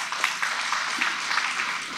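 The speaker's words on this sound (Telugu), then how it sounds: "ఒక్కసారి చప్పట్లు కొట్టాలి మా రోసయ్య గారికి" A seated audience applauds steadily at a memorial event honouring Dr. Konijeti Rosaiah, a dense, even patter of many hands clapping in a hall.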